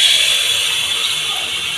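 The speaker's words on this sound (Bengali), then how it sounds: "এখন আমি পিঠাগুলো ভাজতে শুরু করে দেব।" Pitha frying in soybean oil in a wok, a steady close hiss and sizzle that holds evenly throughout without pause.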